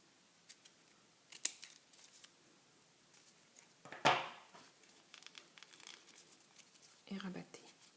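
Scissors snip through origami paper at its centre, a few short crisp cuts and crinkles close by, with one louder paper rustle midway, fairly quiet overall.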